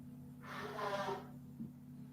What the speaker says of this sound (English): I just want to blow my nose